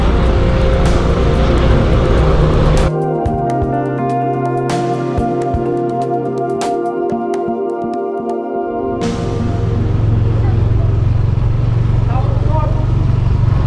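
A car drives through a small town in Aparri, the Philippines, past a church and plaza, its engine humming steadily up close with shifts in tone as it changes speed, and talk faintly underneath.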